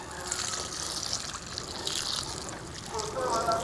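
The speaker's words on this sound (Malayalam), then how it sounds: "ഇതിനകത്തോട്ട് നമുക്ക് കുറച്ച് വെള്ളം കൂടെ ഒഴിച്ചു കൊടുക്കാം" Water is poured onto the soil at the base of a potted curry leaf plant, a soft, quiet gushing trickle with someone talking over it.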